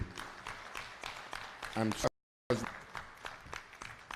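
Audience applause after a speaker is introduced at a conference, a dense patter of many hands clapping at moderate distance, briefly cut off by a short gap before resuming, with a voice speaking over it.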